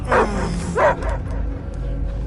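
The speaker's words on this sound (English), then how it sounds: "I hear only barking." A dog barks in the Guardians of the Galaxy game on PS5: two close, loud bow-wow barks early on, then a low, steady game soundscape.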